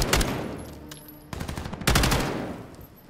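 Full-auto gunfire in the Modern Warfare video game, several rapid bursts of close, loud shots separated by short pauses and trailing echoes.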